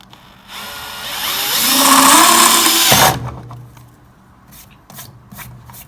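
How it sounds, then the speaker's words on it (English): A power drill whines and grinds through material boring a half-inch hole for about three seconds, rising in pitch, then stops, followed by light brushing and scraping sounds. "Let's go ahead and drill the 1/2-inch hole."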